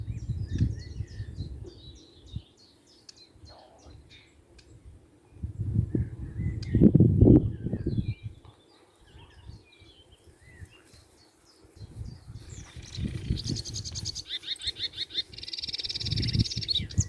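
Blackcap and reed warbler singing in reedbeds on a Cheshire birding patch, bright repeated song phrases coming from nearby and further off over low wind rumble.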